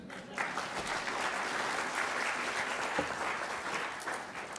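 Audience at a school Hall of Fame ceremony gives sustained applause, a dense, even wash of clapping lasting the whole moment, fairly distant and steady.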